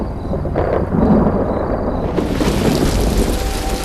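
Thunder rumbles heavily in a Tamil film scene from Yaamirukka Bayamey, a loud, close roll that swells into a dense, steady wash of rain.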